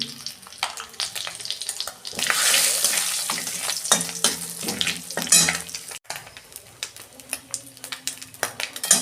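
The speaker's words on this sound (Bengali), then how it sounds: "ওই কড়াতে আমি তেল দিচ্ছি, গোটা জিরে দিচ্ছি," Whole cumin seeds hit hot oil in a wok, giving a busy broadband sizzle with a sharper crackling burst early on, scraping stirring clatter throughout, close and fairly loud with no talk.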